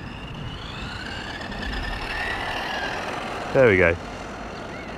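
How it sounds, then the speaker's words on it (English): A Traxxas RC truck with poor steering runs its motor at full throttle, giving a steady rising electric whine over outdoor background noise, with a brief spoken remark near the end. "That's me full throttle."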